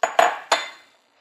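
A utensil clinks three times against a pan while stirring a simmering milk and sugar gelato mixture on the stove, with crisp metallic taps close by and ringing briefly, then quiet.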